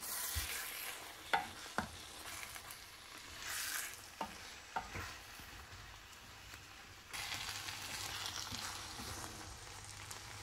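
Fish pieces for a Burmese masala fish curry fry in a hot pan, giving a steady sizzle. A few sharp clatters and spikes come from the pieces going in and being stirred. No one speaks.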